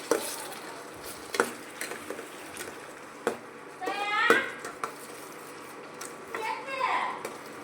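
Green chillies and onions sauté in a hot pan while being stirred, with soft sizzling and scraping spoon-against-pan sounds in brief bursts, several clinks of metal, and faint background noise.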